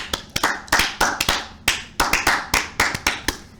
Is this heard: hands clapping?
yes